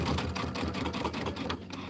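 Sewing machine stitching over a big sewn-on button, a steady rapid mechanical chatter that runs loud and continuous throughout with no pauses.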